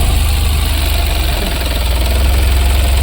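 A Tata Ace Gold BS6 petrol mini truck engine idles close by with a steady, loud, low rhythmic throb and a slight knocking pulse.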